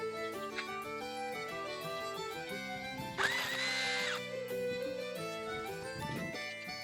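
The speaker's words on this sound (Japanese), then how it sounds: "次はハンマードリルモード。" Running in hammer-drill mode, a Makita HR202D gives a short burst of about one second of buzzy, rattling motor noise, fairly quiet and partly masked by steady background music.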